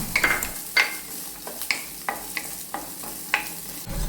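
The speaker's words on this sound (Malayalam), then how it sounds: "ഇത് ഒരിടത്തരം ക്യാരറ്റ് ഒരെണ്ണം അരിഞ്ഞു വെച്ചതാണ് അത് നമുക്ക് ഇതിലേക്ക് ഇട്ട് കൊടുത്തൊന്ന് വഴറ്റാം" One medium carrot, chopped and sautéing in a pan for sabudana khichdi, gives a continuous sizzle punctuated by repeated sharp scrapes of the stirring spoon, roughly every half second, close and clear with no talking.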